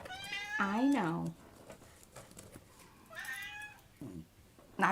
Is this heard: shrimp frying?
no